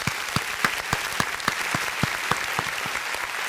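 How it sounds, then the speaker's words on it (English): Brief burst of applause from a small group on a podcast, quick uneven claps right up close, a few seconds long with no talking over it. "round of applause for the commish,"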